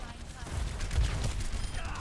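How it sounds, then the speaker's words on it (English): Rocket barrage explosions in a video game, a dense rumbling run of booms and crackling blasts that swells around the middle and keeps going throughout, with voices faintly mixed in. "rocket barrage incoming"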